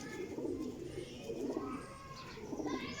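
Flying pigeons coo softly in repeated low, throaty bursts, fairly faint against a quiet background.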